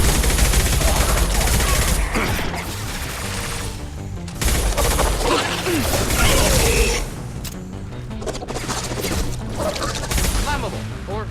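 Dense, loud gunfire from the video game Mass Effect, with sustained rapid bursts and crashes running throughout, mixed with game voices and sound effects.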